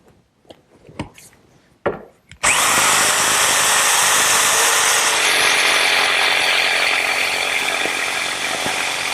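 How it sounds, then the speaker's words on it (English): A handheld jigsaw cuts a wood template along a traced outline for the rear upright of an umbrella stand. A few light knocks come first, then a loud, steady, buzzing saw whine runs continuously for about seven seconds. "I'll cut it out using my handheld jigsaw"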